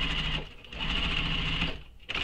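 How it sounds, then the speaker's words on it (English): Sewing machine stitching a dart closed on a shoulder bag, a brief close whirring run that pauses for a moment and then starts up again. "I'm going to sew how she instructs in the pattern on the dart to close up the dart"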